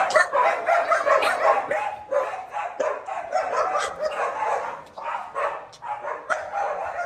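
A dog barking repeatedly near an empty house, sharp rapid yaps and bow-wows coming in irregular bursts with short whimpering gaps, close and fairly loud.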